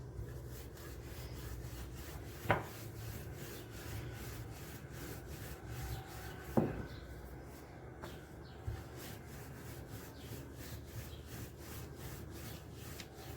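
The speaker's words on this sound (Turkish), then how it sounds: "Şöyle yuvarlayarak inceltiyoruz." Thin lavash flatbread dough is rolled out on a floured surface, producing soft, rhythmic rubbing strokes of the rolling pin with a few faint knocks, all quiet and close, with no speech.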